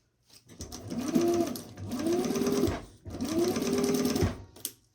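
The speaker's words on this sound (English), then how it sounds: "Making sure to back stitch at the beginning and the end" A sewing machine stitches a zipper seam on a pouch in three steady close whirring runs, each lasting about a second, separated by short pauses, with no voices over the machine.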